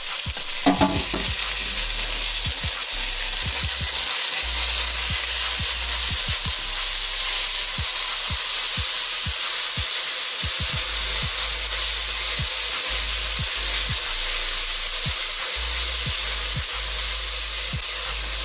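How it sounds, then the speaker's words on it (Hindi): Green peas frying in oil for matar pulao, a steady loud sizzle running throughout with frequent stirring clatter and scraping of a utensil in the pan. "मटरों को ऑयल में अच्छी तरह फ्राई कर लेंगे।"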